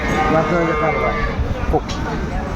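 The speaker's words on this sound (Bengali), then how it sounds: "সুন্দর গাভি বাছুর কালেকশন করছে বেলাল ভাই" A cow lows close by at a busy cattle market in Aftabganj, its deep drawn-out moo rising over the crowd's chatter and bustle.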